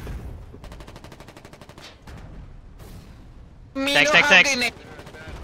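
Machine gun fire in the video game Foxhole, a quick train of evenly spaced shots under a player's talk, then a louder, harsh burst of gunfire near the end before it falls away.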